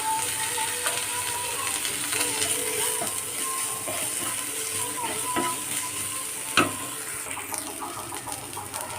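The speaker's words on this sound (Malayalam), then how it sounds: "ഇനി ഇതിലേക്ക് ഞാൻ ഇട്ട് കൊടുക്കുന്നത് തക്കാളി ഒരു പകുതി തക്കാളിയാണ് ഇട്ട് കൊടുത്തിട്ടുള്ളത് ചെറുതായിട്ട് കട്ട് ചെയ്ത് ഇതൊന്ന് ഇട്ട് കൊടുക്കാം" Chopped tomato fries in a pan with a constant crackling sizzle, while a utensil scrapes and stirs in irregular strokes and gives one sharp knock near the end. No one speaks.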